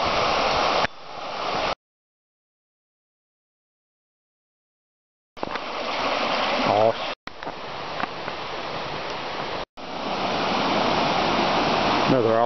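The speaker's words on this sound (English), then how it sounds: "Nice little footbridge going across the creek here with a huge boulders and rushing water." Creek water rushes over huge boulders beneath a small footbridge on a North Carolina trail, a steady broadband roar heard up close in several bursts separated by cuts and one long silent gap.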